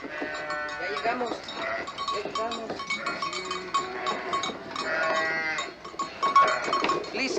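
A flock of sheep bleating in overlapping calls, mixed with a clanking bell and people talking nearby, continuous and busy throughout.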